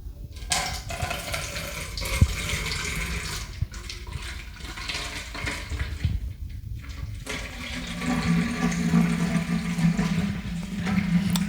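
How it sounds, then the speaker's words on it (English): Water and dish soap poured into a spray bottle, a continuous splashing, gurgling stream close by that rises into a fuller, steadier pour toward the end, with no talking. "next I'm going to pour this into a spray bottle."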